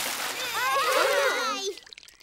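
Water splashing and sloshing in a cartoon as a pig shakes himself dry, a close burst of spray lasting about a second and a half before dropping away, with a voice faintly beneath.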